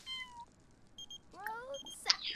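Cartoonish cat meows from The Sims 4 game ring out in a few short rising and falling cries, quiet and spaced apart, with a brief louder squeak near the end.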